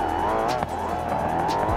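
A swapped-engine car in a racing video game launches off the line, its engine roaring loud and steady while the tires squeal continuously throughout.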